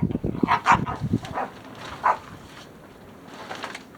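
Playful little yips and squeaky barks come in short bursts near the start, then settle into quiet rustling with an occasional faint yelp.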